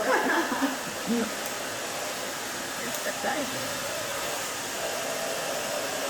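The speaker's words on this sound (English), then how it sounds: "Just making sure we got it all dry." Hair dryer blowing steadily on short pixie-cut hair, a continuous close whoosh running the whole time, with a brief bit of talk near the start.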